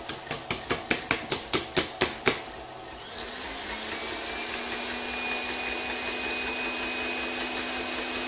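Electric mixer whipping meringue mixture, a steady whirring motor drone that starts after a run of about ten rhythmic knocks and holds at a constant pitch, close and fairly loud with no talking.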